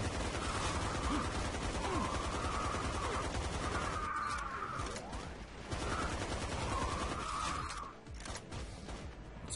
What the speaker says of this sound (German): Wo ist mein Maschinengewehr hier?